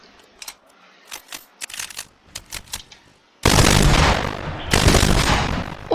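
Submachine gun fire in Fortnite, scattered short bursts of rapid shots followed by two long, loud sustained volleys at close range.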